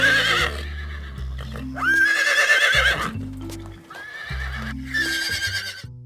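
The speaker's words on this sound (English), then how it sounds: "Ta-da! It's a horse." A horse neighs loudly and close in two long whinnies, each shrill and wavering, with deep snorting and rumbling sounds between them.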